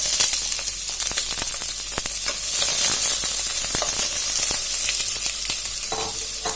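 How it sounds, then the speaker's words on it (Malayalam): Two onions sizzling in hot coconut oil in a Kerala kitchen, a steady bright frying hiss with scattered crackles and stirring clatter, close and loud with no talking. "എണ്ണ ചൂടായിട്ടുണ്ട്. ഇനി അതിനകത്തേക്ക് 2 സവാള ഞാൻ ഇട്ട് കൊടുക്കുകയാണ്."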